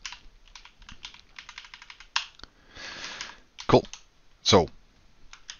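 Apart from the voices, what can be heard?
typing code on a computer keyboard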